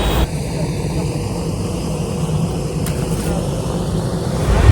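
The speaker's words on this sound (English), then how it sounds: "It's the ultralight aircraft which took off." Ultralight aircraft taking off from a scenic mountain-ringed airport at Pokhara, heard as a steady, broad engine drone that holds level and swells slightly toward the end, with no talk.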